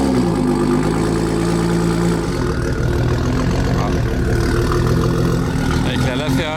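A car engine, seen at the Monaco Yacht Show among luxury and Mansory-modified cars, fires up and settles into a steady loud idle with a low rumble that fills the whole stretch, while people talk nearby.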